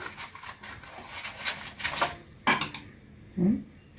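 Biscuit mixture spooned into cupcake molds for no-oven cupcakes, a few close metallic clinks and scrapes of a spoon against the molds at an irregular pace.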